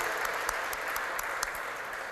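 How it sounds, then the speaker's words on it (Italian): Sustained audience applause at an award ceremony, a dense steady wash of many hands clapping with no pauses, fairly close and even in loudness throughout. "E un altro applauso grande lo chiedo io per Donata Tarabusi"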